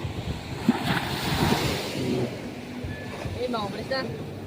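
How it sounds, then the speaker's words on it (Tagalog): Sea waves wash and roll continuously beneath strong wind buffeting the microphone, close and fairly loud, with faint voices in the background. "Biglaan nagkaalon."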